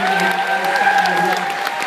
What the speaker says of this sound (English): Your round of applause for guest mentor,